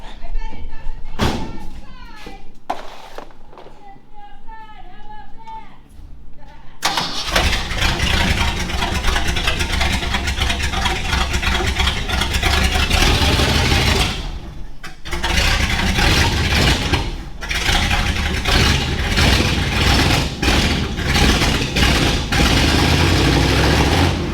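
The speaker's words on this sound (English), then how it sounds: "First time firing up the 68 to drive it out of the shop." A 1968 car's engine cranks and fires up in a shop, then settles into a loud, sustained idle, with people talking nearby throughout.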